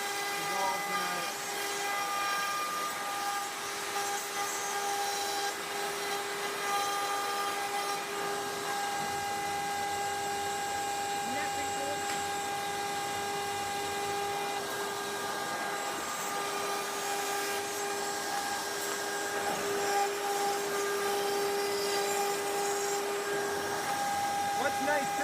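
A pin router machine cutting a part for an RC airframe makes a steady high-pitched whine with a hissing, vacuum-like roar, continuous and fairly even, and a voice talks over it.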